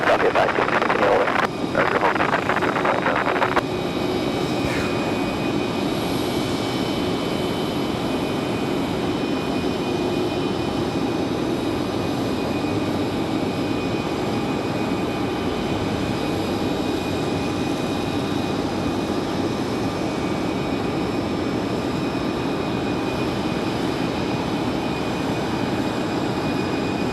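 A CRJ regional jet departing Raleigh Durham International Airport gives off a steady, broad engine roar that holds at an even level throughout, with a brief brighter burst near the start.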